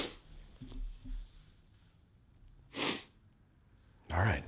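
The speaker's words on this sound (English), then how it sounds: "Did that lunar sweet mango make me sneeze?" A couple of sharp, close sneezes with breathy bursts, separated by quieter breathing and small mouth noises, from a person during a vaping vlog.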